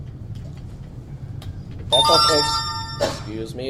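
A mobile phone rings with a bright electronic ringtone in a lecture room, two loud bursts about a second apart that cut across a man's speech.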